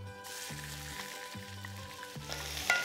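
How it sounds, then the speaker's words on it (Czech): Shrimp searing over high heat in olive oil in a hot wok, a steady crackling sizzle throughout with a low rhythmic hum pulsing beneath it. "Do rozehřáté pánve dám krevety a z prudkého opeču."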